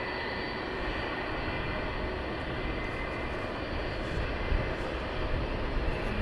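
A FedEx Boeing 757 at East Midlands Airport at night produces a steady, loud jet engine roar that stays continuous with a slight swell near the end.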